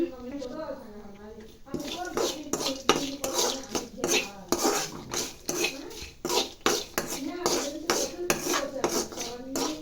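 Chili powder and salt are being stirred together in a metal bowl with a spoon. The spoon scrapes and clinks against the bowl in a steady, rapid rhythm, close up, while someone talks over it.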